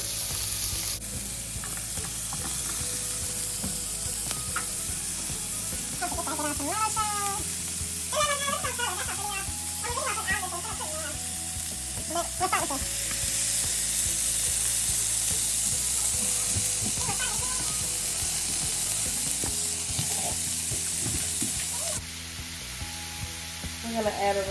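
Sliced onions and peppers for vegetarian fajitas hiss and sizzle loudly in a hot pan, a dense steady frying roar with occasional stirring, while voices talk intermittently over it.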